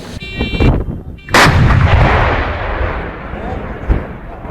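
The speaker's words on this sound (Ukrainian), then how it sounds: "203-мм гармата піон може здійснити за 2 хвилини три постріли" A single heavy artillery gun, a 203 mm Pion self-propelled gun, fires with a loud, sharp blast, followed by a long rolling rumble that slowly fades.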